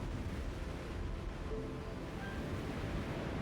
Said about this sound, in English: waves crash against the cliffs and are blown dozens of meters into the air